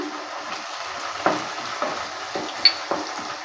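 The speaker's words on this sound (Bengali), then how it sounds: "সব কিছু দেওয়ার পর ভালো করে নেড়ে চেড়ে নিচ্ছে" Potatoes and fish curry spices are stirred in a frying pan, a soft sizzle under repeated scraping strokes of a spoon, several distinct scrapes close by with no voice.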